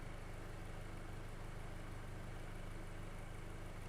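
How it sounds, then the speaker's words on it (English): A VW/Audi 2.0L turbo engine with a lean fault idles in a steady, even drone, a continuous low rumble with no change in pitch and no voices over it. "This car is idling."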